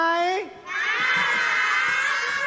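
A children's cheering squad in a TV studio shouting together in a loud, sustained high-pitched roar that swells after a brief dip, with an adult voice heard just before it.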